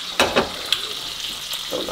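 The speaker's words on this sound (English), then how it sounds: "Getting this bacon on real quick." Bacon frying in a pan, a steady close sizzle with a few sharper crackles and spits popping through it.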